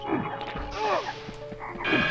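Frogs croak in the Enchanted Forest level of the PS1 game MediEvil: a few loud, warbling croaks with rising and falling tones, close and clear over quiet game ambience.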